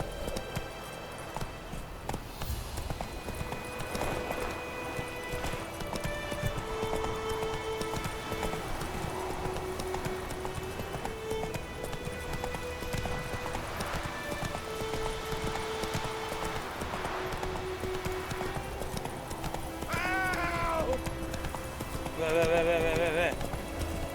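A horse gallops with steady clip-clop hoofbeats in The Witcher 3, mixed with game music and occasional whinnies, while a player talks over it.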